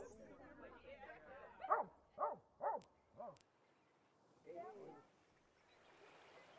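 Dogs bark in the Workers & Resources city-building game, four clear barks in a quick series followed by a softer fifth, over faint ambient background chatter.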